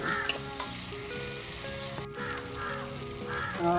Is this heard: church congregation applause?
no